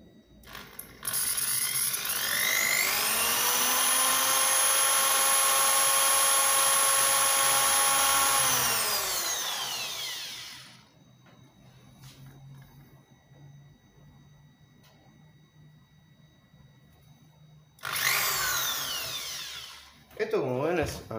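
A power drill whines up in pitch and holds a steady, loud high-speed drone for about nine seconds while boring holes in the fretboard of a BC Rich Warlock bass guitar, then winds down, with a second short burst near the end.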